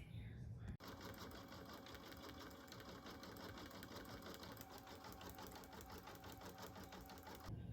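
An in-the-hoop embroidery machine stitches the black mouth, nose and eyes on a country bear stuffie, a continuous rapid, rhythmic needle chatter running steadily for several seconds.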